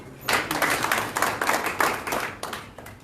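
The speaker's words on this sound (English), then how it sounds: "Another round of applause." An audience claps for a UNICEF country representative at the Kenya Editors' Guild luncheon at the Sarova Panafric Hotel, a steady close burst of hand claps lasting a few seconds with no talk over it.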